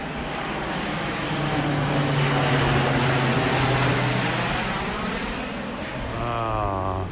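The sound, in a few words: airplane flying in to land, Tokyo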